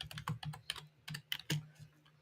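Close computer-keyboard typing during a live session on writing content with AI: uneven bursts of crisp key clicks and clacks, some keystrokes louder than others, with no voices.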